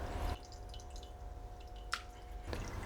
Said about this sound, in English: now the next step is to pass our sauce through a sieve